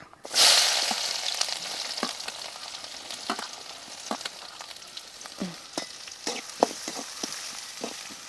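Two medium chopped onions hit hot oil with a loud hiss, settling into a steady sizzle broken by the clacks of a spoon stirring close by.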